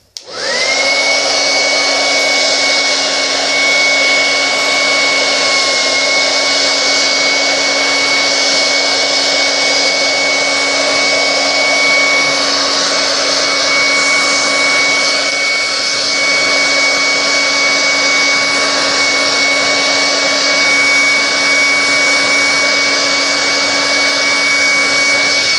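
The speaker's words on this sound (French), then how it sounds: "je vais chauffer donc mon écran avec un sèche-cheveux" Hair dryer blowing hot air onto a Sony Xperia M2 phone screen during a repair, a loud steady whine and rushing airflow running unbroken throughout after a quick start.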